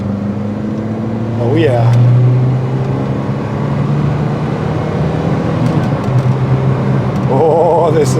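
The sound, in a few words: Citroën Visa GTi hot hatch accelerating on the road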